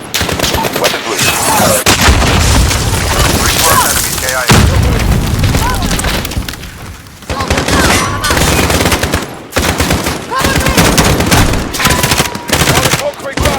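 Gunfire and explosions in Call of Duty Warzone, near-continuous loud automatic fire and heavy booms with shouted voices over the battle.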